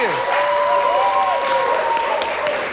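A TV game-show studio audience applauds, a steady, loud burst of clapping that lasts the whole moment. A few sustained tonal notes, like show music or a jingle, ring faintly above the applause.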